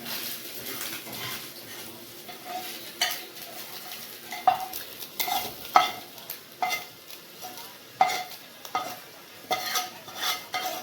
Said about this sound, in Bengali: আমি শঙ্কর মাছের তেলে এই মাছটা ভেজে নিলাম আবার